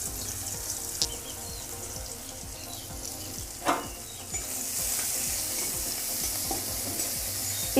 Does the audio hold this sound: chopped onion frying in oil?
yes